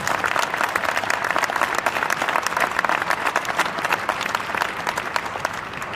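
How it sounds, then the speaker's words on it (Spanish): A large conference audience in Aguascalientes, Mexico, claps loudly and densely for several seconds, with crisp individual claps blending into a sustained, even roar and no voices on top. "Un aplauso enorme para Carlos García."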